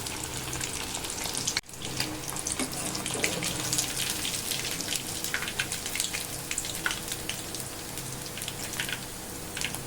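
Vanjaram fish fries in hot oil with a dense, continuous sizzling crackle, close and steady for the full length, broken only by one brief dip near the start; no talking.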